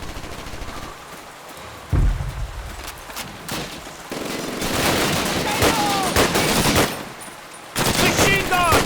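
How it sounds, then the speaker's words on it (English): Rapid bursts of machine gun fire in a Call of Duty battle, loud and dense with overlapping shots and explosion-like thumps, the volume swelling mid-clip and surging again near the end, with faint voices mixed into the chaos. "Machine gun!"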